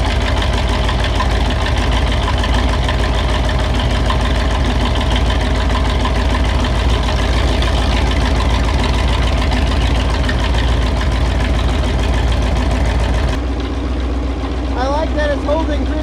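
A rebuilt 390 V8 engine runs at a steady idle, a loud continuous low rumble with a constant mechanical drone that holds even throughout, then shifts to a slightly quieter, thinner tone near the end.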